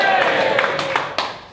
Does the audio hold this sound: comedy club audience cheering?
yes